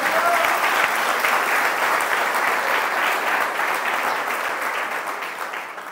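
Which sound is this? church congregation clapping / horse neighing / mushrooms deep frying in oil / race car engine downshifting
church congregation clapping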